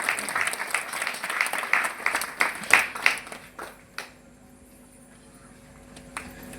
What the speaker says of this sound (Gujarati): આપણે જોરદાર તાળીઓ પાડીને સ્વાગત કરીએ